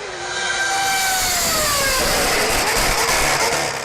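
Red Bull Formula One car with a blown diffuser exhaust, its high-revving engine wailing loud and near for about four seconds, the pitch sweeping down as it passes, with no talk over it.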